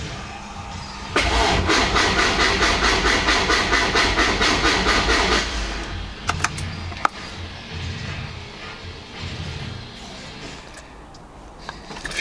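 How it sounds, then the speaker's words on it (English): A Rover Metro 160 VVC starts up with a long churning crank that has a rhythmic pulse, then catches into a rough idle. Clicks and knocks follow and a voice speaks faintly in the background. "Fuel pump priming."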